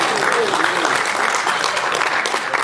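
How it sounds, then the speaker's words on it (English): An audience claps steadily and fairly loudly in a room, a dense wash of applause holding for a few seconds, with some voices mixed in. "can I ask you to give a very big round of applause to everybody who is here"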